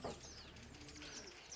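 Racing pigeons cooing faintly near a breeding loft outdoors, soft low coos with some higher chirps in the background.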